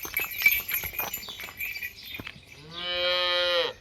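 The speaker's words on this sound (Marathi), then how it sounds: "काल सकाळी जनलेली गाय आहे" A medium-sized cow that calved the previous morning lets out one long, loud moo near the end, after a stretch of quiet shuffling and faint barn sounds.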